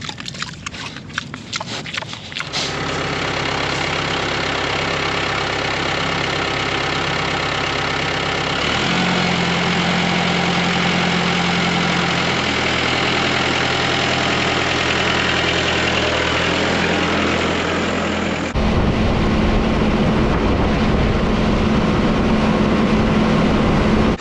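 A small New Holland tractor engine runs steadily nearby at a ranch, changing pitch and load a few times as it works, with a harsh mechanical drone throughout.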